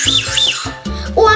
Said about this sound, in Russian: Он свистит.